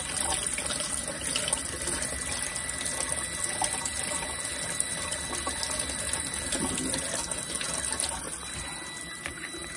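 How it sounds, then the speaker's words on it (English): Cold tap water runs steadily over a fan clutch switch, a continuous close splashing and hissing stream with no talking. "Put it back under the cold water."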